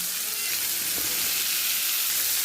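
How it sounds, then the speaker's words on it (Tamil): Okra sautés in a pan for a spicy tamarind gravy, giving a loud, dense, continuous sizzle and hiss close up, with a faint stir partway through and no voices. "சைடில் வந்து நம்ம வெண்டைக்காவை போட்டு வதக்கிடலாம்"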